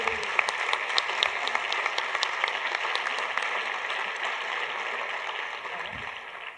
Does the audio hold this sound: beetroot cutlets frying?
no